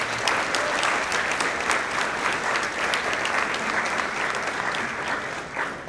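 Sustained applause from a banquet crowd honoring a football coach at a school football banquet, dense steady clapping filling the room for several seconds with a few sharper claps standing out.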